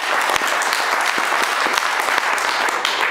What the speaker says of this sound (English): I'd like you to please give a round of applause to the JavaPosse.